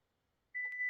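A car's remote lock gives a single sharp electronic beep that rings clear and steady after a brief silence, fairly close and alone, with no voices.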